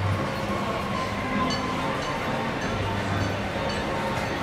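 Disneyland Railroad train rolling along with a steady, continuous rumble and rail noise, moderately loud and unbroken throughout.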